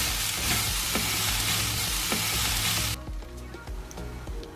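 Edamame cooks in Japanese Cajun sauce in a hot pan, sizzling loudly with scraping stir strokes, then the hiss drops off abruptly partway through, leaving quieter bubbling and clinks.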